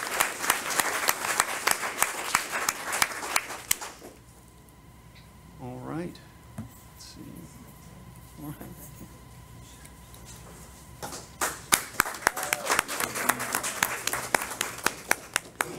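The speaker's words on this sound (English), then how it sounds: "Let's give them a big applause." Audience applause at a county school board meeting: a burst of clapping fills the room, fades to a near-quiet pause with a voice speaking, then the clapping resumes strongly at the end.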